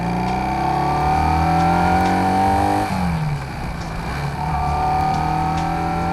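Motorcycle engine revving high and held during a slow, drawn-out upshift, a loud close whine that drops sharply mid-way as the gear changes, goes rough and lower for a moment, then climbs back to a steady drone.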